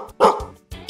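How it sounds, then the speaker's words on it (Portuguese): A dog barks twice in quick succession, close and loud, with short pauses between the barks. "O cachorro late"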